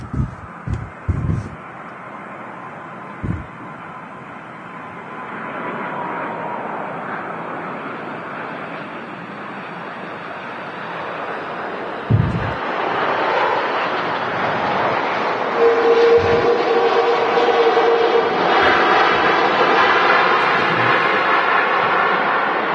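A Boeing 757 airliner lands on the runway at Manchester Airport, its broad engine roar rising and building steadily in the distance amid wind buffeting on the microphone, with a few brief bumps early on.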